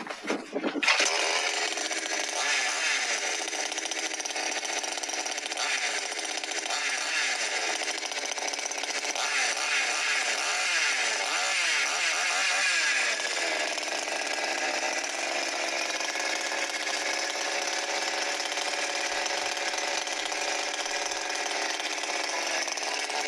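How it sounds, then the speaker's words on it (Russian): A Chinese-made chainsaw's small two-stroke engine buzzes loud and close, rising to a high steady scream at maximum revs and holding there with slight wavering, with no voices over it. "Холостых и максимальных оборотов на данных пилах китайского производства максимальные обороты должны"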